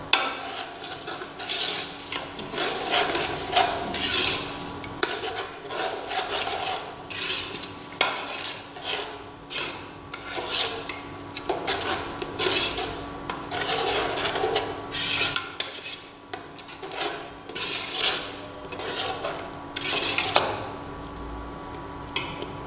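A spoon scrapes and stirs chopped tomatoes, salt and yogurt in a metal pot, with irregular clinks and wet churning sounds repeating close by.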